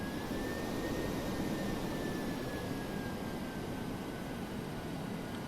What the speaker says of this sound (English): If you listen to the engines, it sounds like we should be going much quicker